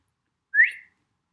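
A person gives one short, bright, rising whistle to call a dog, heard alone against silence.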